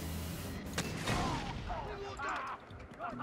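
Rockets fired in Far Cry 3 co-op burst in a sharp blast followed by rumbling explosions and debris, loud and close, with voices talking over the chaos.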